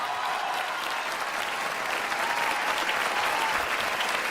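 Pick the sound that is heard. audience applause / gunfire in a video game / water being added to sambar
audience applause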